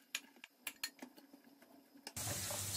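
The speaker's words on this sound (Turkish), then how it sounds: "Onun da üzerine doğradığım 3 adet orta boy soğanı ekliyorum." Three chopped medium onions hit a pan of hot olive oil: after a few quiet clicks and taps, a sudden loud, steady sizzling hiss starts and continues to the end.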